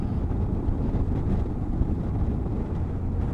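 Strong wind gusts roar across an exposed lakeside campsite at Lake Vidra in the mountains, a steady low rumbling buffet against the microphone with no pauses.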